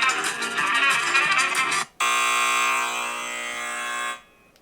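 An electronic game timer buzzer from the Cuphead dice board game blares in a harsh pulsing burst, then a steadier tone holds for a couple of seconds before cutting off abruptly.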